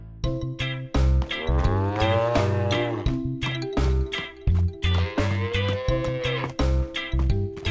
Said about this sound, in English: Peppa takes care of the dairy cows.